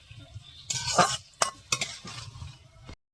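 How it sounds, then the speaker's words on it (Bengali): Marinated eel being lightly sautéed in a pan, a few scraping stirs and metal clinks over a gentle sizzle, close by, ending abruptly in silence. "এখন একটা হালকা করে কষিয়ে নেওয়া হবে"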